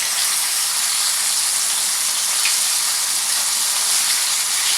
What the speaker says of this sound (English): I hear our chicken getting sizzling nicely.